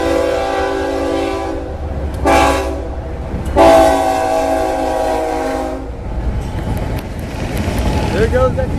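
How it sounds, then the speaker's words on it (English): A Florida East Coast freight rock train passes through Boca Raton, sounding loud, sustained horn blasts over the steady rumble and clatter of the cars. A person speaks nearby. "Florida East Coast Rock Train."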